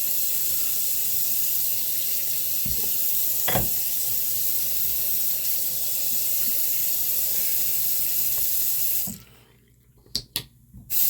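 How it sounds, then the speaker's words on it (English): Tap water runs steadily into a sink in a home sharpening setup, a continuous close hiss that cuts off abruptly near the end, followed by a few small clicks and knocks in near quiet. "There's a little bit more water going in the sink."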